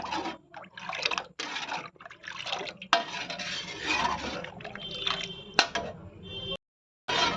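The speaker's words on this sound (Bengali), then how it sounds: "এটা দিয়ে আমি এবার এটাকে ভালো করে মিশিয়ে নেব।" Spoon stirring four spoonfuls of sour curd into a kilo of milk in a kitchen pot, with scraping, clinking strokes against the metal and faint liquid swishes, close and steady with brief pauses.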